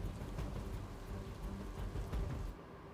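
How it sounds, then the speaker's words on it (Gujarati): Heavy continuous rain pours over a flooded village in Kalyanpur, Dwarka, a dense steady hiss with low rumbling undertones, easing slightly near the end, with no talking. "અવિરત વરસાદ વરસી રહ્યો છે"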